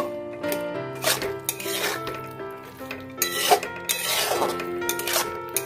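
A spatula scrapes and clatters against a pan as fried chicken is stirred with melting cheese spread, in repeated strokes with short clinks, over a steady tonal background.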